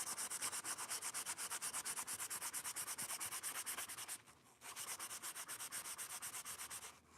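A Japanese chisel is rubbed back and forth on sandpaper in fast, even strokes, a close rhythmic rasping with a brief pause partway through, no talking.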